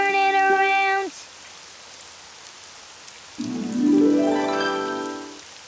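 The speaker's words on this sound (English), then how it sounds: "Oh, it's raining outside." Cartoon rain falls outside as a steady soft hiss, with brief musical tones at the start and a rising tonal sweep near the end.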